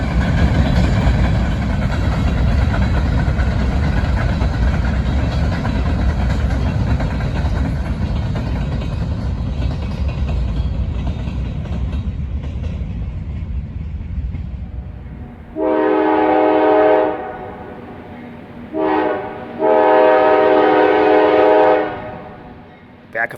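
A freight train of autoracks and empty sand cars led by GE Dash 8 diesel locomotives rumbles past, its engines and wheels loud and broad. Then the horn sounds in two long, strong blasts with a short one between.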